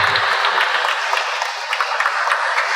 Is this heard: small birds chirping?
no